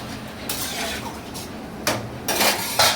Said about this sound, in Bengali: একটু ঢাকা দিচ্ছি।